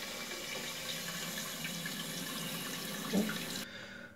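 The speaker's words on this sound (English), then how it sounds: "I'm gonna turn the water on." Water rushes steadily into a toilet tank as a Flowmaster all-in-one fill valve refills it, a constant hiss of running water that cuts off abruptly near the end.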